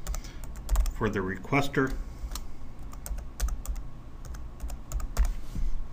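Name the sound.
typing on a computer keyboard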